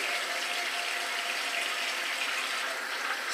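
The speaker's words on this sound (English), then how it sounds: "Let's rinse off here." A tap runs steadily into a sink as a safety razor loaded with a Feather blade is rinsed, a constant close hiss of flowing water with no pauses and no voices.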